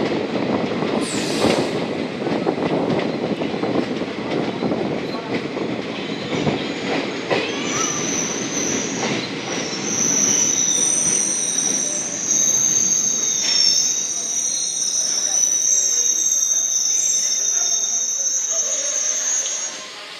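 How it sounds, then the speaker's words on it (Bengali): A night passenger train, the 15767 Siliguri–Alipurduar, runs near New Mal Junction, its loud rumbling carriage noise giving way to sustained, piercing wheel squeals that stretch through the second half. "স্টেশন ডামডিং ছেড়ে দিয়েছে আমাদের ট্রেন"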